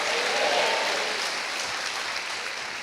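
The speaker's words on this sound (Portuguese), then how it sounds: "Pode dar uma salva de palmas ao Senhor em nome de Jesus" A church congregation applauds the Lord during a sermon, a dense wash of clapping that peaks early and then slowly tapers, steady and fairly loud with no talk over it.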